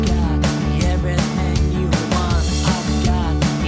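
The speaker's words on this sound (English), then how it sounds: "The bass track at the moment sounds like this." Demo bass guitar track for a song, a steady, loud bass line pulsing in a busy rhythmic pattern with full mix elements behind it, heard alone with no voices for a few seconds.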